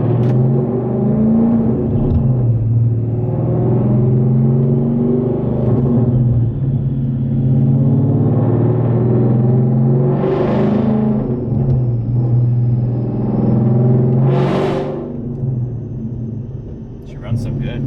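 A 700+ hp car on a dyno pull, its engine rumbling loud and steady with rising revving surges and a couple of sharp high swells, while people talk over it.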